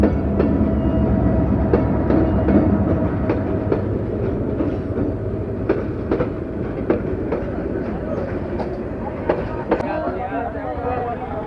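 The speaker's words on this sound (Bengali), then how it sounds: "এই যে দেখতে পাচ্ছেন ট্রেন চলে আসছে" A train rolls past a level crossing in Narsingdi, Bangladesh, at night while traffic waits, giving a steady loud rumble with repeated rail clicks close by, mixed with nearby vehicle engine noise.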